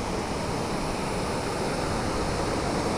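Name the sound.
strong rushing water at Caliraya Lake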